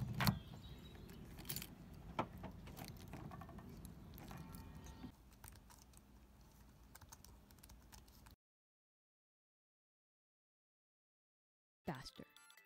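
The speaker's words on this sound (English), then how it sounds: "Grab the keys and go." Keys jangling as a set is grabbed, bright metallic jingles and clicks near the start followed by scattered handling taps and rustles, then a stretch of silence before a brief final clatter.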